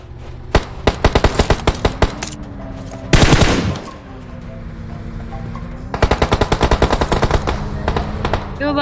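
Rapid machine-gun bursts ring out in a shooter video game, quick rattling strings of shots broken by a louder blast and a pause, then another long burst, with voices talking over the action.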